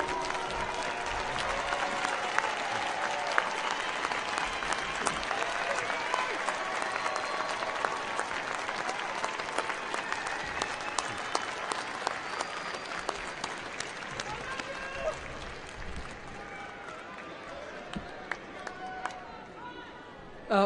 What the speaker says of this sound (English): give all of your friends and family a big round of applause for the support and love they've given you